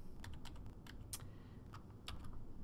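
Keys on a computer keyboard tapped in short, irregular clusters while entering a complex-number math problem, close and fairly quiet, with a low steady hum underneath.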